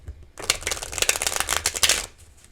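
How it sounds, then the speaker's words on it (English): A deck of cards is shuffled close up in one quick burst of rapid, riffling flutter lasting under two seconds, with quiet before and after. "Let's get another shuffle."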